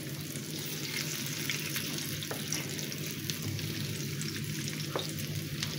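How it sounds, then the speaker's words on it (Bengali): Egg-stuffed pointed gourd (potol dolma) fries in oil in a pan over medium heat as it is turned, making a steady close sizzle with light scraping clicks and no talk. "তো এখানে আমি পটলটা উল্টিয়ে নিচ্ছি।"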